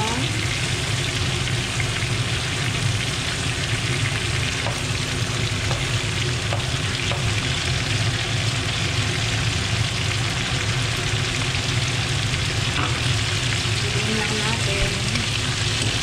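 Sliced onion fries in a pan with turmeric and cumin, giving a dense, continuous hiss of sizzling close by while a voice speaks briefly over it.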